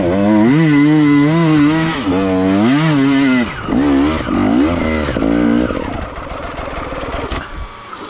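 A KTM 300 two-stroke dirt bike with a TBI throttle-body conversion is revved up and down in sharp bursts, its raspy ringing note climbing and dropping repeatedly before settling into a rougher, lower idle.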